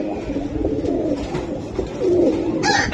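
Pigeons at a pigeon market coo in low, repeated rolling calls, close and fairly loud, with several birds overlapping amid light market bustle.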